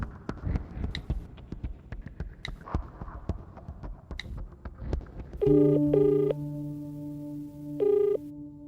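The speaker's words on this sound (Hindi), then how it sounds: "मणि को कॉल करता हूं।" A mobile phone rings out on an outgoing call, two loud electronic ring bursts around the middle and another near the end, after a stretch of clattering background noise.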